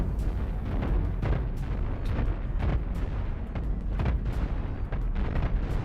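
Cannons and nukes fire in the Cosmoteer space game, a dense stream of booming blasts and explosions rolling in rapid irregular succession, loud and continuous with no talk.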